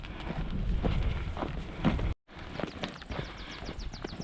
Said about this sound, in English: Go on, cows.